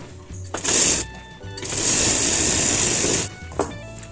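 A sewing machine stitches the cuff of a ladies' shirt in two runs: a short burst, a brief pause, then a longer steady whir close by, with no voice over it.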